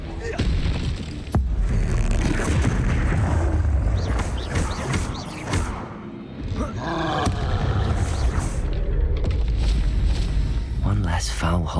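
A Confringo blasting spell goes off in Hogwarts Legacy, with booming blasts and roaring creature cries in a busy, loud fight mix, and some low game voices mixed in.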